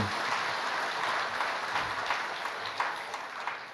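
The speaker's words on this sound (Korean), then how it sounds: "우리 박수 한번 하십시다." Congregation applause fills a Sunday morning church worship service, a steady wash of many hands clapping at once that continues evenly from start to finish with no talking.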